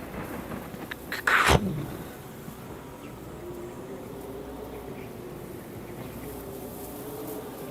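Thunder from a lightning strike during a storm at sea: one loud, sharp crack about a second and a half in, which fades into a steady wash of wind and rain noise.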